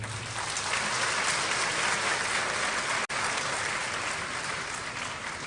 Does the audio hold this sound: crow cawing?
no